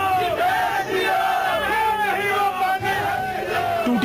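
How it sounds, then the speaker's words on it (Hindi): A crowd of attackers carrying sticks and banners shouts and chants outside an Aam Aadmi Party office, loud rising yells and battle cries overlapping continuously throughout. "लाठी डंडों और बैनर पोस्टर्स के साथ एक भीड़ पहुंची"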